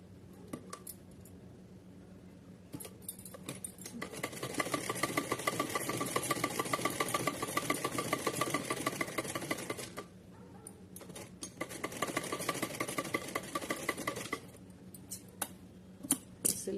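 A sewing machine stitches layered fabric for a heavy dress for a Kanha idol, running in two long stretches of steady whirring and rattling with quieter pauses and handling clicks in between.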